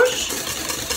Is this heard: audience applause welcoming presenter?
no